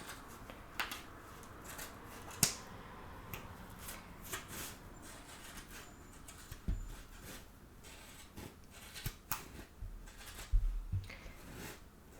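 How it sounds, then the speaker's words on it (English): Scissors cut around a wool pom-pom with soft, quiet snips and rustling of yarn, repeated irregularly at close range. "So I'm just going to cut all the way around, keep holding nice and tight."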